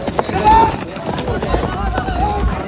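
Horse hooves clip-clop in a steady, close rhythm during a horse ride at Mahabaleshwar, with voices talking over the hoofbeats.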